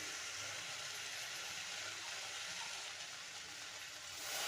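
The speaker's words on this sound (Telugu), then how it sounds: "నెక్స్ట్ వాటర్ వేసుకోవాలి" Water pours steadily into a cooking pot of rice and moong dal in a continuous, close hissing rush, unbroken for several seconds and growing slightly louder at the end.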